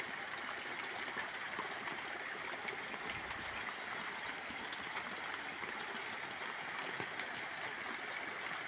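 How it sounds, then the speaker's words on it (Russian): Heavy rain pouring down in a dense, unbroken hiss, with water rushing and splashing nearby throughout, running toward a roof and into a barrel, in Yaroslavl Oblast, Russia. "Шурует ливень. Видите, как шумит."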